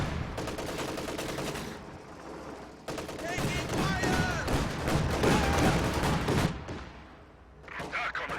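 Machine gun fire crackles in the World War II strategy game Company of Heroes 2, rapid bursts mixed with other gunfire and battle noise, with a commentator talking over it.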